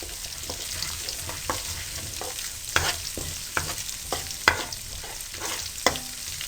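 A tablespoon of cumin seeds frying briefly in a pan for a potato and egg bhujia, giving a soft steady sizzle with scattered crackles and occasional stirring scrapes and clinks.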